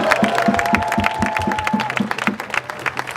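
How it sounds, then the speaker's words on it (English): Crowd applause for a speaker at a rally, dense clapping and cheering held steady over a few seconds, with a rhythmic low thumping and a sustained tone running underneath. "let's give it a round of applause to our comrade Maritza"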